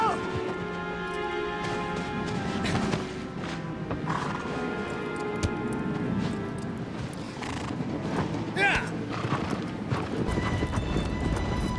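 Horse hooves clip-clopping steadily in Shadow of the Colossus, with a whinny partway through, over game ambience and music, moderately close.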